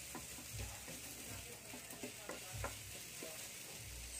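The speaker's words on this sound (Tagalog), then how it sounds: "Igigisa lang, gisa-gisa lang to guys." Miso sautéing in a pan as it is stirred, a soft, continuous sizzle with faint scraping strokes of the spoon, quiet and close, with no talk.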